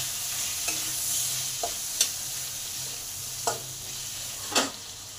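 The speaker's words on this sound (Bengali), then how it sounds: "এই তেলে প্রথমে পটলগুলোকে ভেজে তুলে নেব" Pointed gourd fries in hot oil with a continuous close sizzle, and four or five distinct spatula knocks and scrapes punctuate the stirring, with no voices.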